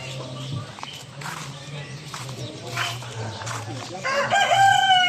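A rooster crows loudly nearby at an animal park, a long drawn-out call near the end, with hens clucking and people talking throughout.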